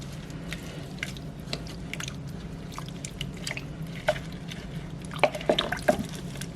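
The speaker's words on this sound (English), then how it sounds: "Stir that up." A spoon stirring food in a crock pot, giving soft wet squishes and faint scraping over a steady low hum, with a few louder moist clicks toward the end and no talking.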